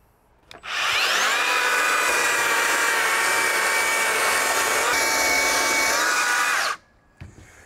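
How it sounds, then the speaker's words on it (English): A belt sander grinds across weathered deck boards in one loud, steady, unbroken drone lasting about six seconds. It starts and stops abruptly, and no one speaks. "You want to be really close to the belt sander as you get up close to the wall"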